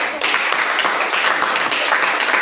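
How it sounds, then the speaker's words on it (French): A church congregation applauds God at a Sunday service, steady loud clapping filling the space with no break for the whole moment. "Il faut acclamer l'Éternel Dieu."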